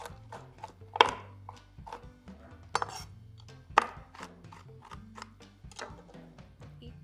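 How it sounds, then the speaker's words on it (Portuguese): Peanuts are coarsely chopped with a knife on a board, producing a string of sharp, irregular taps and knocks, fairly close but soft, with a few louder strikes among quieter ones. "temos amendoins e vou picar grosseiramente"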